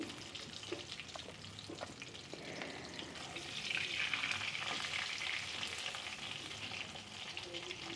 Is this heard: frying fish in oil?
yes